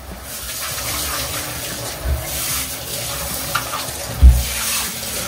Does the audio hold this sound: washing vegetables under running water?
yes